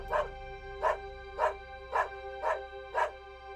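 A dog barks six times at a steady, even pace, each bark clear and fairly close, over a constant low background hum with no talking.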